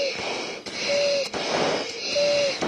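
Heavy, laboured breathing after exertion, with rhythmic rasping inhales and exhales, each carrying a thin wheezy whistle. It is close and fairly loud, repeating about three times in under three seconds with no talking.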